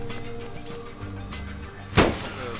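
A single sharp gunshot in the shooter game Escape from Tarkov rings out near the end, a loud close crack with a brief tail over a low ambient background, no voices.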